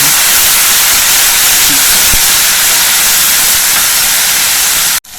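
Onion and spices frying in a pan for a jackfruit kofta curry, a loud, steady hissing sizzle that runs unbroken before cutting off abruptly at the end.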